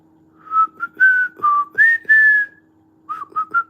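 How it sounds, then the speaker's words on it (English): Someone whistles an aimless, wandering little tune in short bright phrases with small pauses between them, close by and alone, with a faint steady hum underneath. "I have no idea what I'm whistling about."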